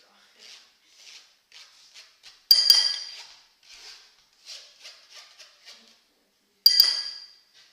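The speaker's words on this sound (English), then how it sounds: "just scrape the bottom of the sieve down" Utensil scraping the bottom of a sieve after pushing potato through, a series of short, faint scratchy strokes with two sharp metallic clinks standing out.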